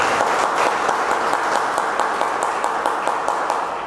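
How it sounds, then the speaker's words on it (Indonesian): Church congregation applauding in a sanctuary, a dense and steady burst of clapping heard close and loud, with no talk over it. "Kasih tepuk tangan yang meriah untuk Tuhan."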